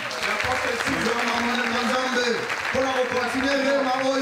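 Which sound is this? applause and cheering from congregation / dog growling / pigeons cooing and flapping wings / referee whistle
applause and cheering from congregation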